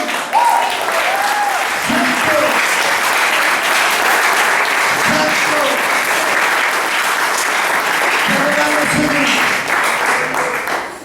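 A church congregation claps steadily and loudly for several seconds, a sustained wash of applause with faint voices and music beneath.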